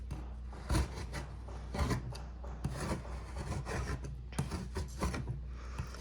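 An old blade scrapes leftover paint across a messy painting palette, a series of quiet, close rasping strokes repeating at an uneven pace with no talking.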